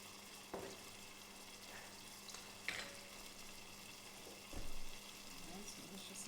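Garlic paste mixed with ginger and a herb fries gently in oil for shrimp scampi, a faint, steady sizzle broken by a few soft clinks and stirs.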